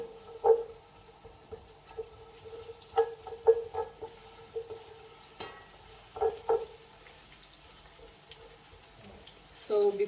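Onion frying in hot oil for a fish coconut stew, a quiet background sizzle broken by scattered clinks and scrapes of stirring, with a few louder knocks near the start and end.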